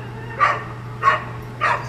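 A pet dog barks three times in an even rhythm, close by and fairly loud against a low steady hum.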